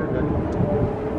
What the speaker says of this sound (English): Aubrey, there's an airplane